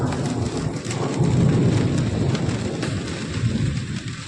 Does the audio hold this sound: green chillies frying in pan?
no